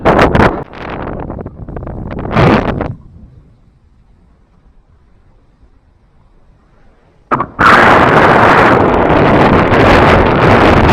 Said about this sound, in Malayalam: നല്ല കാറ്റാണ്. ഞാൻ പറയുന്നത് കേൾക്കാൻ പറ്റുമോന്ന് അറിയില്ല